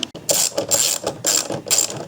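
A ratchet wrench tightens an 8mm bolt on the generator of a Ford Edge 3.5L, producing close, loud, rapid clicking bursts in four quick back-and-forth strokes with brief pauses between them.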